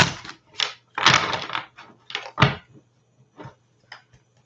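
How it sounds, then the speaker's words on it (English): Tarot cards are shuffled by hand in a string of quick, papery riffles and soft taps, with short pauses between the bursts. The shuffling is close and clear, and no one talks. "let me shuffle one more time"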